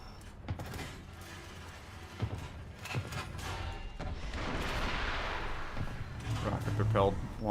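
Rocket-propelled artillery firing in War Thunder, a run of heavy thuds and booms over a rumbling roar that swells toward the end, with someone talking over it.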